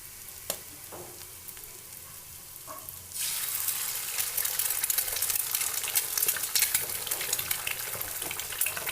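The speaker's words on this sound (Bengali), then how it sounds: "এখন আমি এর মধ্যে ডাইরেক্ট একটি ডিম ভেঙে দিয়ে দিচ্ছি" An egg cracked straight into hot mustard oil in a village kitchen pan bursts into a loud, steady crackling sizzle about a third of the way in, after a quieter stretch of faint pan noise.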